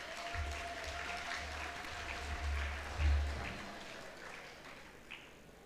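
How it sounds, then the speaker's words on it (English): Scattered audience applause at a University of Venda 40th anniversary celebration, fairly faint and steady over a low background hum, with no voices. "So let's give them a round of applause."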